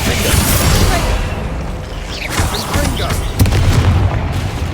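Booming Confringo and Bombarda spell explosions from Hogwarts Legacy, a dense run of heavy blasts and crackling impacts that keep firing over busy game combat noise.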